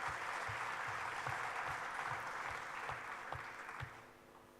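An audience gives a faint, distant round of applause, a soft even patter of clapping with a few heavier thumps that slowly fades.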